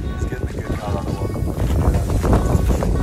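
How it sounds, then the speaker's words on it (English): Gusty wind buffets the microphone with low rumbling noise, steady and close. "It's quite windy."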